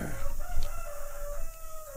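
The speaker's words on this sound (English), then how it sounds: "All day, no rooster, and now rooster" A rooster crows a long drawn-out call outdoors, heard over steady background noise and a sustained tonal hum.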